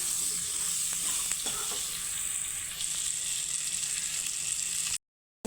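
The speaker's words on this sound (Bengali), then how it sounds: "আর দিব রঙের জন্য আর একটু হলুদ তো একটু হালকা ভেজে নেব আমটাকে" Raw mango pieces with salt and turmeric lightly frying in a pan for a pickle, giving a loud, steady close sizzle that holds evenly without talk, then cuts out abruptly near the end.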